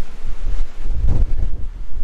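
Strong cold wind buffets the microphone outdoors near a flooding river at Blanchetown, a steady low rumble with gusty surges, loud and close, no talk.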